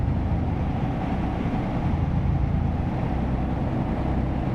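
A car engine revs near 8,000 rpm in roughly tenth gear, close to top gear, in a driving video game, making a steady, loud, continuous drone with no voices over it.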